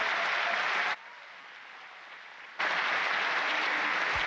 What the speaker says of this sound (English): we'd like to all give you a round of applause for all you do